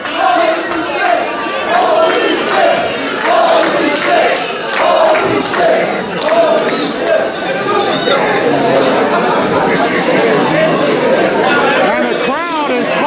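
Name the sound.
wrestling crowd buzzing after a ladder match drop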